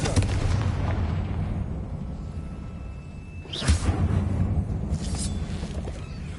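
A Confringo blasting spell in Hogwarts Legacy goes off in an old mine, a heavy rumbling blast followed by a second whooshing burst partway through, loud and close with no talking.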